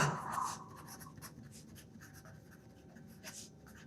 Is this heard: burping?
no